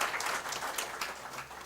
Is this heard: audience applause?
yes